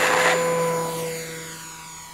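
A Tower Hobbies Cessna 400 electric RC model airplane, 1.1 m span, takes off with a loud whining motor and propeller buzz that peaks at the start and gradually fades as it climbs away.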